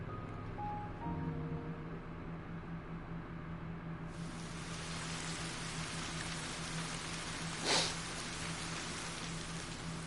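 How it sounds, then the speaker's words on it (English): Rainfall in the video game Ender Lilies makes a dense, continuous hiss throughout, with a low sustained musical tone beneath it, growing fuller partway through and briefly swelling near the end. "At last, the rain stops."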